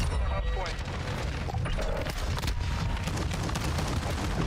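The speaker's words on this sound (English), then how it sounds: "I'm pulling the trigger, hearing the gunshot" Gunfire in a Call of Duty match, rapid overlapping shots and booms in a dense, loud barrage that runs continuously throughout.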